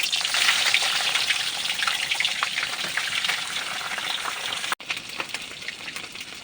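Daing na labtingaw, a half-dried fish, frying in a heated pan gives off a dense, steady crackling sizzle up close. It stays loud and continuous, with a brief cut partway through.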